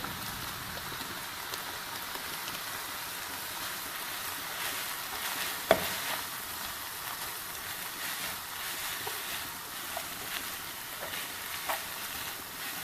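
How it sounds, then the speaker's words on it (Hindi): Noodles frying in a hot pan as spicy noodle masala is stirred in, a steady close sizzle with soft scraping and one sharp knock against the pan, no talking. "अब हम इसमें नूडल का मसाला डाल देंगे।"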